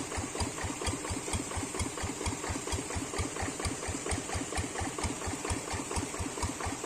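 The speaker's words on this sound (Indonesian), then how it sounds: "Ini mesinnya banyak ngetem ya, dikarenakan airnya tidak ada." A diesel engine idles steadily with a fast, even knocking rhythm, close and loud throughout, running short of water.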